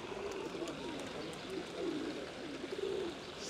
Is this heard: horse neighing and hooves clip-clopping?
no